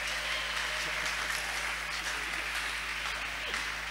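Congregation applauding the Lord at a church worship vigil, a dense steady wash of many hands clapping at moderate distance, continuous throughout without pauses.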